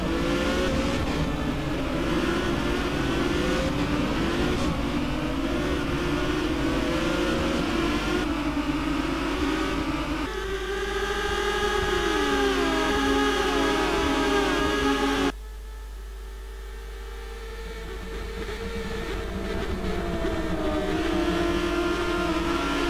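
Renault Mégane race cars circulate at Istanbul in a sim racing game, a continuous loud engine whine with shifting revs and gear changes, dropping abruptly to a quieter drone before building again, with no talking.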